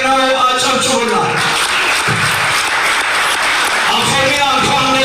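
A crowd at a lottery draw claps for the winner of a one-bedroom condominium prize, loud, steady applause that fills the whole stretch, with voices mixed underneath.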